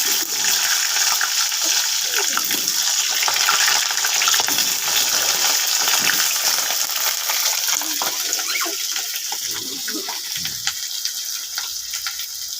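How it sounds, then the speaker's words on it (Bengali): Potatoes frying in a pan with spices and onion seeds, a steady close hiss of oil with occasional scraping stirs running throughout, no talk. "এখন আলুটা ভেজে নেব।"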